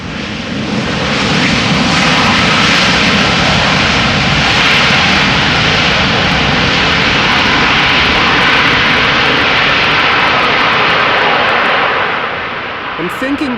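A jet airliner lands in gusty crosswind at Amsterdam Schiphol Airport, its engine roar loud and broadband, swelling over the first seconds, holding steady, then easing off near the end.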